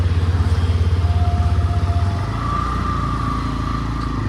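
A motorbike carries riders along a road near Dumka at low speed, its engine a steady close rumble; the throttle eases around the two-second mark and the engine settles into a smoother, lower drone with a faint whine.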